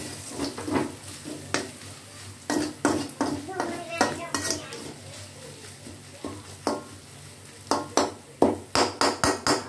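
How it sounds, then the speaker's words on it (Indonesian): A spatula scrapes and clatters against a pan while chicken filling for lemper is stirred and sizzles, with rhythmic knocks coming in bursts and a steady frying hiss underneath. "Kemudian masak, aduk-aduk kembali sampai aromanya wangi dan warnanya berubah menjadi kecoklatan."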